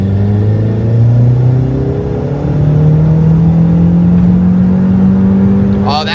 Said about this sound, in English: I'm foot to the floor and I'm holding it until I hit 6 grand